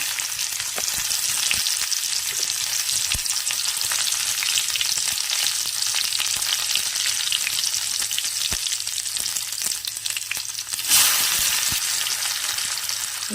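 Shallots drop into hot oil already popping with mustard seeds, giving a loud, continuous sizzle and crackle close up, with a brief burst of extra spitting near the end and no talking.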